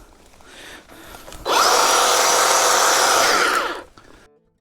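A Craftsman power tool spins up outdoors while brush is cleared for a hunting blind, a loud steady whine holding for over two seconds before cutting off, after a faint lower hum at the start.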